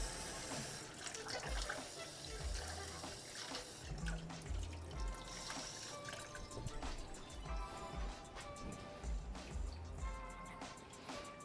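Cold water runs steadily from a kitchen tap into a sink, a continuous close splashing stream with shifting gurgles throughout.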